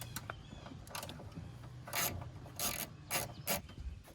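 Undoing the bottom nut of a door check on a 1999–2006 Chevy Silverado or GMC Sierra gives quiet ratcheting clicks and scraping metal rubs, with a few louder bursts close by.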